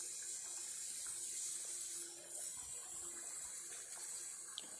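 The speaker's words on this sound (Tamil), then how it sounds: "இப்போ தண்ணி ஊற்றி நம்ம வேக விடலாம்." Water pours steadily into a clay pot of chicken curry seasoned with rock salt, a continuous splashing trickle heard close up without speech.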